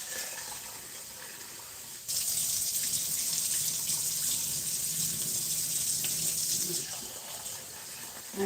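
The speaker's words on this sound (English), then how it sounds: "I'm going to put some water in there" Water from a kitchen tap runs into a bowl of rice being rinsed. It starts as a soft trickle, then turns into a louder, steady gush for several seconds before easing off again, with no voices.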